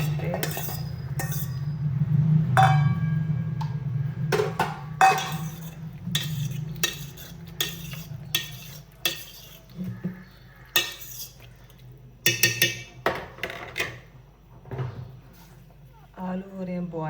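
A metal spoon stirs red chili powder into a home-cooked dish, with scattered clinks and scrapes against the pot growing sharper toward the end, heard close over a steady low hum and a faint voice.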